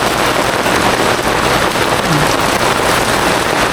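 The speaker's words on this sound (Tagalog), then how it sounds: "Pag nasimulan na yung ulan at tuloy-tuloy na yun." Heavy rain pours down in a dense, constant roar, loud and unbroken throughout.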